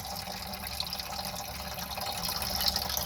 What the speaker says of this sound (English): So here I'm draining the coolant.